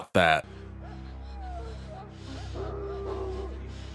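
Dogs in a Game of Thrones episode, one sharp loud bark at the start followed by fainter yips and whimpers amid dramatic sound and speech.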